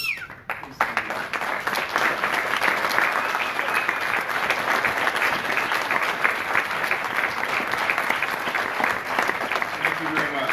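A graduation ceremony crowd applauds the Academy of Learning Career College staff, steady continuous clapping filling the hall for about ten seconds after a brief opening sound.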